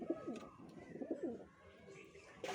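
Pigeons in a loft coo in soft, repeated throaty phrases, a pair of rolling calls near the start and another pair around the middle, close by with a faint hiss behind and a brief clatter at the end.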